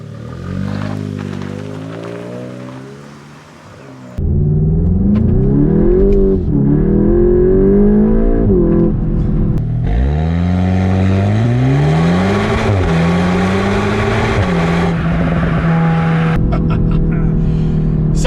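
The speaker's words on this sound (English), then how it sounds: "Here we are, giving it a first drive, the new 2021 VW Golf GTI Clubsport 45." A 2021 VW Golf GTI Clubsport 45 on a first drive, its engine revving and climbing through gears loud inside the cabin, pitch sweeping up and dropping at shifts, with road and wind noise beneath.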